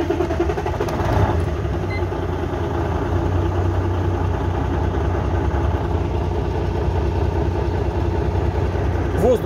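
A Kenworth T2000 truck's engine idles with a steady, deep low rumble that stays constant throughout.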